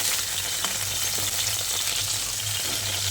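Pieces of pointed gourd (potol) sizzle and crackle in hot oil for a vegetarian dish, a loud, steady frying hiss with no talking.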